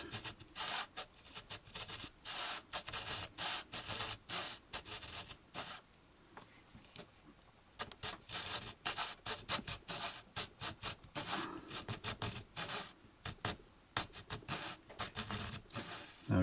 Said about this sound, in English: we're going to take our saw and go this way, flat, to cut this little bit out